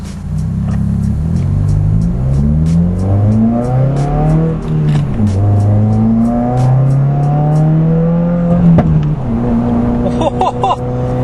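A car pulls away hard from a green light, its engine climbing through several gears in repeated rising sweeps with shift breaks, loud and close from inside the cabin.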